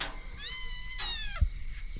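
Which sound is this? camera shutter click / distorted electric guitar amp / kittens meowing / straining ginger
kittens meowing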